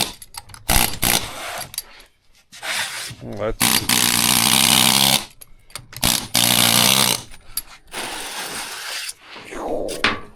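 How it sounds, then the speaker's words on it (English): A pneumatic air hammer strips the suspension from a 1996 Polaris Ultra triple race snowmobile, firing two long, loud rattling bursts between clanks of tools and brief speech. "Getting some air hammers."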